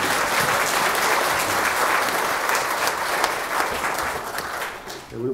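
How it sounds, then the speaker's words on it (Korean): Church congregation applauding during a Sunday service, a loud, dense, sustained roar of many hands that carries on for several seconds before tapering off at the end. "박수를 뭐 한번 지식껏 화끈하게 칩시다."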